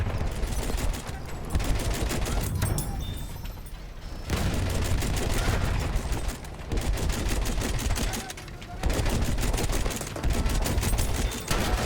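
The rear gun of a tank in Battlefield 1 fires in long, rapid, continuous bursts, loud and close, with short pauses between volleys.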